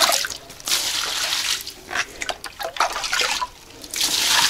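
Water splashes and trickles in uneven pours and drips, close by, as plants in a greenhouse are watered, with brief pauses between streams.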